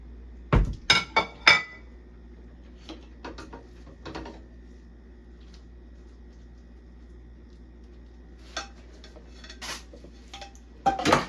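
Plates and dishes clink and clatter as a plate is taken out, a quick burst of sharp knocks at the start, then scattered lighter clinks and rattles over a quiet background hum.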